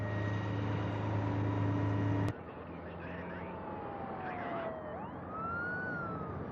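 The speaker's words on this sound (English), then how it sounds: "It's the ambulance." An ambulance siren wails, rising and falling, loud at first and then cut off, continuing more distantly with a sweeping tone over background rumble.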